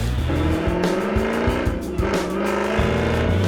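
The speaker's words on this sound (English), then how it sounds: "It's time to finally get this car out on the test track and see all of that hard work pay off." A rebuilt car is driven hard on a test track, its loud engine roaring continuously close up while tires squeal and skid through the corners.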